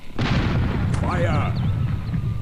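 Cannon fire from an airship battle in the video game Air Buccaneers: a loud, sustained booming blast with a whistling, warbling tone over it, close and dominant, with a brief voice near the start.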